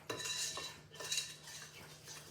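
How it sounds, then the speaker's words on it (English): Cake batter stirred in a mixing bowl after soda and vanilla extract go in, a utensil scraping and clinking against the bowl in a steady run of close strokes, with no voices. "Now we're going to give this a good stir."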